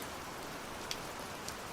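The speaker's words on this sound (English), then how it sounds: "rain falling steady" Steady rain falls around a parked car at night, a dense even hiss of drops with a couple of faint louder taps, continuous and close with no voices.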